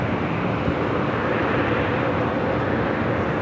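A Delta Airbus A321neo takes off from runway 24 left at Los Angeles International Airport, giving a continuous, loud, broad jet-engine roar that holds steady throughout.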